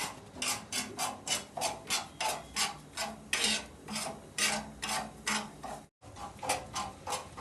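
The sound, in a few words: roasting sama rice in a pan for fasting kheer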